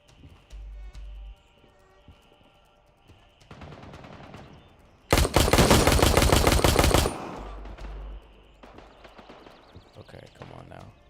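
Gunfire in the video game Gray Zone Warfare, with quiet gear and movement sounds before a dense, loud burst of rapid automatic fire lasting about two seconds, followed by softer handling noises.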